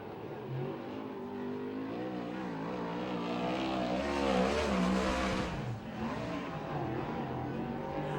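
A sprint car engine howls around the Tulare dirt oval during a USAC/CRA race, a loud, wavering roar that rises and falls as the car circles, with pitch bends on the turns and steady crowd-level background, no voices.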